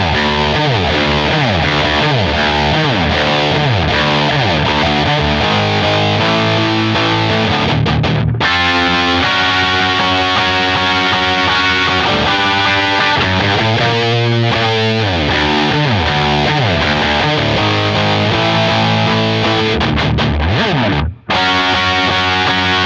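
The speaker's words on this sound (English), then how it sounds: "the overdrive distortion works really well for this opening part of the song" Electric guitar through an overdrive distortion pedal, playing the opening of a rock song: loud, gritty, saturated riffing with sliding notes that runs continuously, broken by two brief sharp dropouts.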